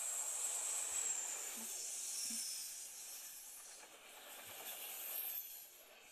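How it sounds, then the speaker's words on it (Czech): A Czech Brejlovec train rumbles past at a distance with a steady hiss and a few faint low knocks, its roar slowly fading and swelling without any voices. "A tady vidíme, jak tady jede ten vlak Brejlovec."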